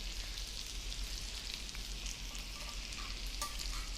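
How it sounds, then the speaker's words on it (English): A seer fish fillet hits melted butter in a hot pan, giving off a steady, even hiss of frying. The sizzle runs nonstop from start to end, quiet and close, with a few faint clicks and no voices. "so it's time to add the fish fillet. I can hear it sizzle, which means the temperature is just right."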